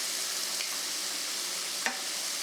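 Chicken and shrimp fry in a sturdy pan with a steady, close sizzle throughout, broken near the end by a quick scrape and clack as the pieces are flipped.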